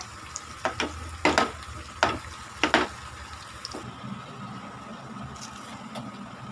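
Tapioca (cassava) pieces fry in a pan: a steady low sizzle runs throughout, broken by a handful of sharp scraping, clattering stirs in the first few seconds.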